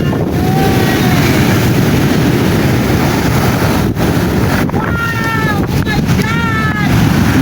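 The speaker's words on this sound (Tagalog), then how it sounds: "Inaabot tayo ng alon." Big sea waves surge and splash at Bolobolo, Agusan del Norte, under a steady roar of wind buffeting the microphone, with spray rushing continuously and people talking over it.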